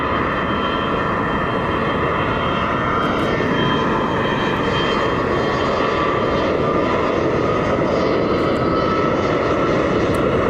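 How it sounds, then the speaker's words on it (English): A CRJ regional jet departing Columbus John Glenn airport gives a loud, steady engine roar that holds continuously throughout, with no voices. "Connection CRJ departing here"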